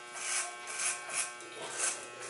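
An electric hair clipper cuts hair during a men's fade haircut, a close steady buzz rising and falling in a slow rhythm as the blade passes through the hair, no voices.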